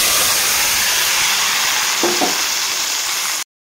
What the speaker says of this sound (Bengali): গরম হয়ে গেছে, দিয়ে দিব শুকনো লঙ্কা, তেজপাতা, আর দিয়ে দিব ফোড়নে পাঁচফোড়ন